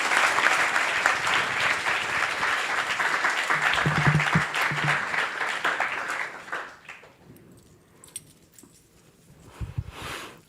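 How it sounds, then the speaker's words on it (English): Audience applause fills a room at a Vaisesika Maharaja Vyasa Puja birthday celebration, loud and sustained for about six seconds before fading into quiet room noise with a brief burst near the end. "So give a round of applause to Jagarini Mataji."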